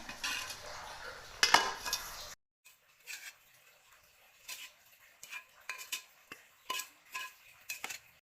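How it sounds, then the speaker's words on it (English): Chinese cabbage is tossed with spicy seasoning in a bowl, giving a scattered series of soft clinks, scrapes and wet mixing sounds, close and fairly quiet, with one brief louder rustle near the start. "Put it on a Chinese cabbage and mix it well."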